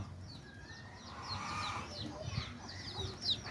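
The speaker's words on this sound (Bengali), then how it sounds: "দাদা ওই মুরগি চাইছে ওই মুরগি মুরগি মুরগি" Chickens cluck and chirp repeatedly at a moderate distance amid outdoor background noise, with short bird-like calls scattered throughout.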